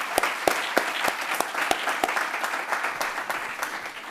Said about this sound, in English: Please join me in a round of applause for our advisors.